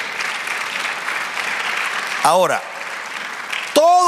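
Church congregation applauding, a broad steady clapping wash through most of the stretch, with a preacher's voice cutting in briefly over it near the middle and again at the end.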